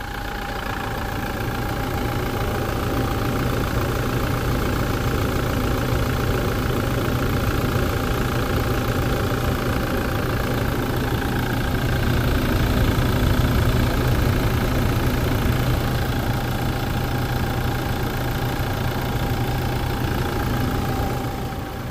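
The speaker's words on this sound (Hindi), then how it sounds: "इंजन साउंड आपने सुन लिया" A 2023 Toyota Fortuner 4x2 engine idles steadily with a constant low drone and a faint mechanical whine, heard at moderate distance with no talking throughout.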